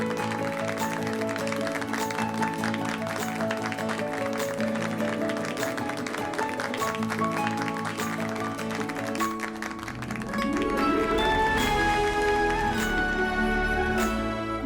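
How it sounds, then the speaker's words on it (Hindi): Studio audience applause for a junior doctor named as topper in a Hindi TV drama scene, a dense continuous clatter of clapping over swelling background music that grows louder toward the end. "तालियां।"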